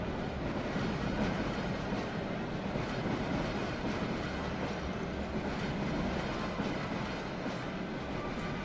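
A DR1A diesel railcar in Minecraft rumbles past steadily with a continuous rolling roar and faint clatter, no voices, at moderate volume throughout.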